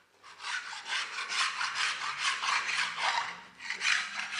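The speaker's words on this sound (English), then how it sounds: "absolutely scrape the fire out of something" A short-handled flooring scraper scrapes across a surface in repeated close, rasping strokes, about a dozen steady pushes in a regular rhythm with no talk.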